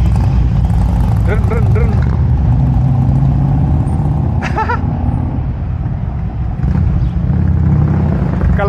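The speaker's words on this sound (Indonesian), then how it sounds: "Suaranya Harley. Wow. Suara Harley." A Harley-Davidson motorcycle engine rumbles nearby with a loud, continuous low throb, with people talking over it and brief squeaky tones coming through.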